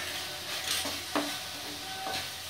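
A spoon scrapes and clinks around a pan as chole masala with salt and garam masala is stirred, with a soft sizzle underneath and a few sharper metallic taps, close and without talk.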